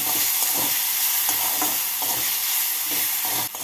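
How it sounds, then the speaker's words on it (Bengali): Dal cooking in a pan with salt and turmeric while being stirred, a steady frying sizzle broken by repeated soft scraping strokes, close and alone. "এর মধ্যে আমি দিয়ে দেব ডালের জন্য স্বাদ মতো নুন, 1/2 টিস্পুন হলুদ। ভালো করে নাড়াচাড়া করে নেব।"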